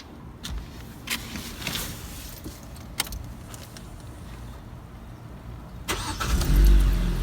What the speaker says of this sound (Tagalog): Start na po natin yung ating sasakyan